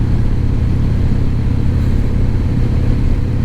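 A 2013 Harley-Davidson Super Glide FXDC with a 96 cubic inch, 1575 cc V-twin runs loud and close, a thick low throbbing rumble with steady pulsing beats, mixed with wind noise on a cold morning ride.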